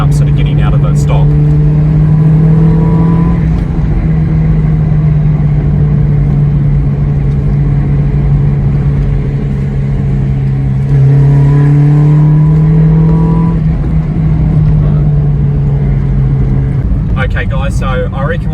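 A Toyota Corolla EE90 with a stock 2E engine idles steadily up close, with a low constant hum and a couple of brief revs rising in pitch, continuous throughout.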